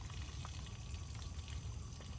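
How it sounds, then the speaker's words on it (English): Constant low rush of water flowing through a pipe, faint and even with a hollow, echoing quality and no talking. "There's water coming here."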